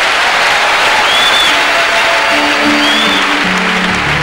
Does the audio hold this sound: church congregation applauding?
yes